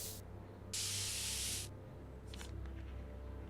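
A spray can hisses in Back to the Future: The Game, with one brief puff followed by a steady burst of about a second over low game ambience, then fainter hissing.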